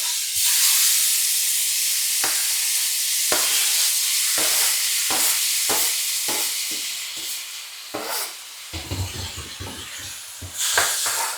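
Tomatoes tossed into a hot pan already holding oil, turmeric and bay leaf give a steady hissing sizzle, close and fairly loud, broken by short louder crackling bursts and stirring scrapes.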